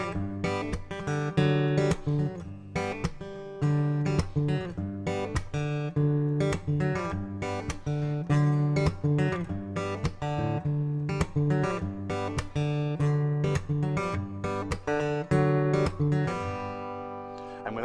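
Acoustic guitar played in a rhythmic style, strummed chords punctuated by percussive thumb slaps on the strings, steady and close with no talking.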